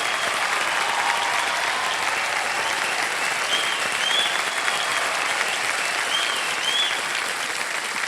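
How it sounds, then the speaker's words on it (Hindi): Studio audience applause on the TV quiz show Kaun Banega Crorepati, a sustained, even roar of clapping from a large crowd, loud and unbroken, with occasional faint whoops. "हम लोग खड़े होकर के ताली बजा रहे हैं आपके लिए।"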